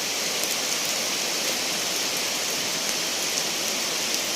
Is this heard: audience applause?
no